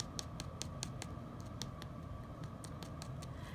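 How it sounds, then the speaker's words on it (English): A nail brush taps on a cured acrylic sculptured nail, made with odorless liquid and powder, giving a string of faint, light, irregular clicks over quiet background hiss. "you want to take your brush and you want to tap it and see if it makes a clicking sound"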